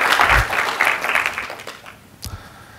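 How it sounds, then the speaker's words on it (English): Brief applause from a conference session audience, a scattered burst of clapping that thins out and fades into near silence with a last few isolated claps. "I think they deserve a round of applause for making this session possible."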